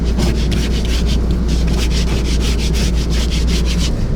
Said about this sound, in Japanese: これで削っていきます。